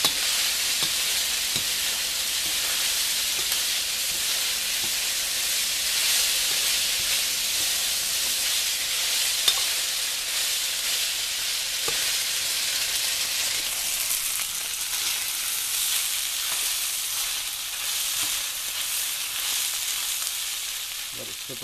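Rice and tofu fry in a pan for General Tso's tofu, a steady, even sizzle and hiss that continues throughout with faint occasional stirring taps.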